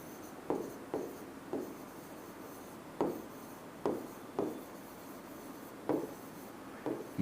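Chalk or marker strokes on a board come in short, evenly spaced taps and scratches, about a dozen quick marks at a moderate pace with no talk in between.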